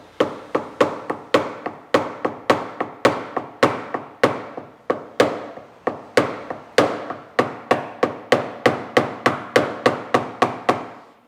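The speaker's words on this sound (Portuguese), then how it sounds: "dê leves batidas em toda aquela região" A wooden block tapped lightly over a car body dent in paintless dent repair, about thirty sharp, evenly spaced knocks at close range, each ringing briefly, with no voices.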